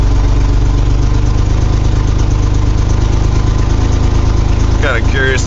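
A carbureted 1982 GMC S-15 pickup engine idles steadily through a cold start warm-up at 35 degrees, a loud, even rumble that runs throughout, with a brief voice near the end.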